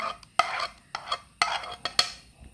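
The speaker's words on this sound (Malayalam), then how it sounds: "കുറച്ച് വെള്ളം ഒഴിച്ച് നന്നായിട്ടൊന്ന് അടിച്ചെടുക്കാം" Thick batter in a bowl is beaten briskly with a utensil, giving close, sharp repeated strokes and wet slaps in an uneven rhythm, with no voices.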